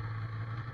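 A snowmobile engine idles steadily, a low even hum with a strong low tone, close up and alone, lasting under a second.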